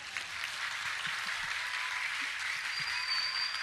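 Audience applause in a hall, a steady wash of many hands clapping at a moderate distance, continuous and even throughout.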